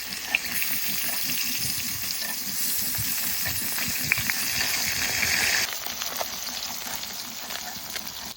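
Koi fish frying lightly in hot oil in a village kitchen, a steady close sizzle with bubbling crackle and small clinks, no talking over it.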